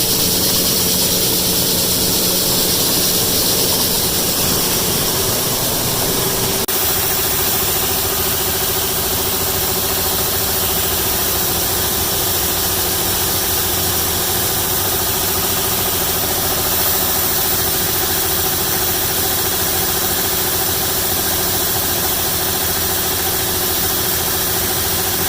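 A mechanical seed cleaner separating vetch seed runs with a steady droning hum and vibration. The drone shifts to a slightly different tone partway through, then carries on evenly, with no voices.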